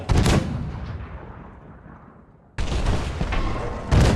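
A cannon in the video game Mundaun fires with a loud boom that decays over about two seconds, then a second heavy blast and rumbling burst follow close and loud.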